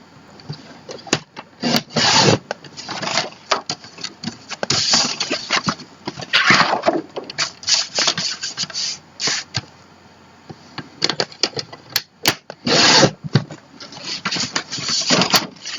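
Paper trimmer or blade slicing 12 by 12 cardstock into 6 by 12 strips, giving repeated rough rasping and sliding strokes in bursts of varied length, fairly close and clear, with no talking.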